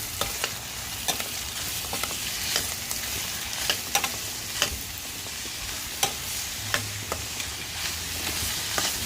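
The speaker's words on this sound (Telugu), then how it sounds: "మొత్తం బాగా ఫ్రై అయ్యేంత వరకు ఫ్రై చేసుకోవాలన్నమాట." Carrot and ivy gourd pieces frying in a pan make a continuous sizzle, broken by sharp ticks and scrapes as a spoon stirs them at irregular intervals, up close with no talk.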